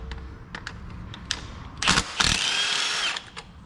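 Ratchet with a 5/8 socket on an extension breaking loose the spark plugs on a Hyundai Santa Fe, quick ratcheting clicks, then a loud burst of clatter and whirring up close, with no voice.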